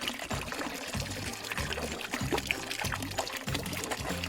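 Water pours steadily from a container, a continuous splashing trickle with a soft low rumble that rises and dips in even pulses and runs unbroken for about four seconds at moderate loudness.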